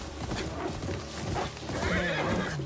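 A video game horse named Shinuki neighs in a loud rising whinny over a run of clip-clopping hooves, close and clear with no talk.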